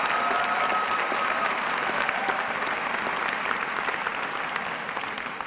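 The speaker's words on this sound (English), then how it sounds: "The members of the class, go ahead, they deserve a round of applause." A large audience at a high school graduation ceremony gives a sustained, dense round of applause for the graduating class of 2012, a steady roar of many clapping hands that fades slightly at the end.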